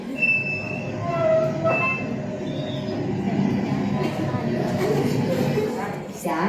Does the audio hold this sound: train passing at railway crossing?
yes